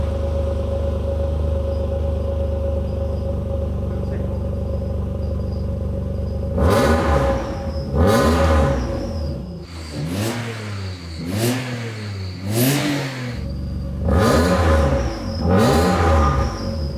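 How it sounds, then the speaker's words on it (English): An Alfa Romeo V6 fitted with a new exhaust system revs hard in a series of sharp throttle blips, each rising and falling in pitch, after a steady idle burble; loud and close, with no talking. "Let's drop the car and have a proper listen to the new exhaust system."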